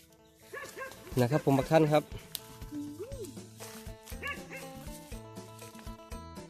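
A dog barks in several quick bursts mixed with yelps and whines, while someone talks nearby.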